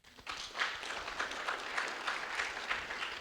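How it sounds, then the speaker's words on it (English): Audience at a Dutch-Africa strategy debate applauds a departing panel, a steady wash of many hands clapping for about three seconds, fairly loud and dense, with no talk over it. "Let's give them a clap."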